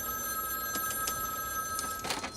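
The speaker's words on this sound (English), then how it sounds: "You hear a phone ring and it could be anybody." A telephone rings loudly in the 2002 film Phone Booth, with sharp repeated bell bursts over a steady electronic tone and room noise, heard alone without talk.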